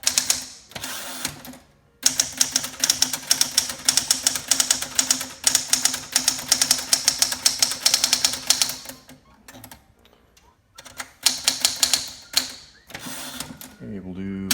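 A typewriter clatters with rapid keystrokes in dense runs, with pauses and a brief break partway through, while a person speaks in the background.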